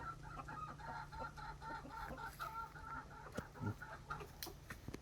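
Chickens cluck repeatedly on a rural village farm where ducks and hens roam freely, a steady busy clucking with scattered sharper calls and outdoor background noise.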